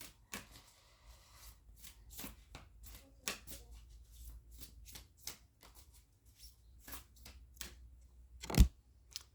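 A deck of tarot cards is shuffled by hand: soft, irregular riffling snaps and card slaps repeat over several seconds, close and quiet, with one sharper knock near the end and no voices.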